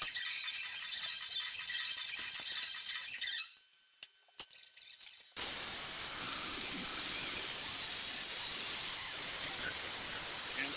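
A steel bed frame leg being cut with a power tool, a loud steady hissing grind that cuts out briefly with a few sharp clicks, then resumes at full strength.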